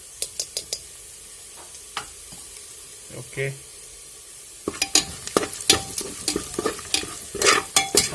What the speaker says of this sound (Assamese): এইখিনি ধুনীয়াকৈ ভাজি ল'ম